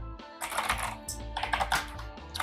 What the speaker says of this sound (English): The keys feel very similar to like a